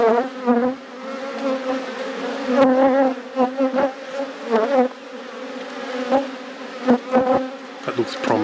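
Honey bees around open hives in an apiary make a loud, close, continuous buzzing drone that wavers in pitch as individual bees pass near, with brief dips between swells.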